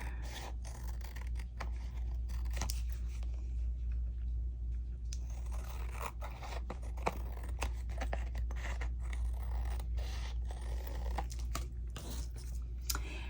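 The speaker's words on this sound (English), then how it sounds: "I'm just going to trim out where this paper's hanging over." Scissors trim overhanging paper around a craft tag, giving repeated short snips and crisp cuts over a steady low hum.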